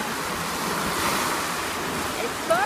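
Ocean waves wash up onto a Hawaii beach in a steady, close surf roar with wind buffeting the microphone and a brief high whistle near the end.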